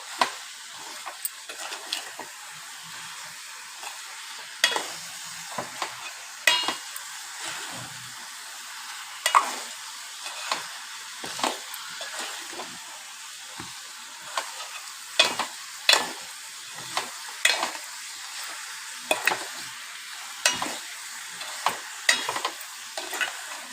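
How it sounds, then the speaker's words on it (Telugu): Chicken curry being fried and stirred, with repeated sharp spoon scrapes against the pan in an irregular rhythm over a low sizzle, close and steady throughout with no speech. "ఎలా ఉంది చికెన్ నా స్టైల్లో కూర వండుతున్నాను"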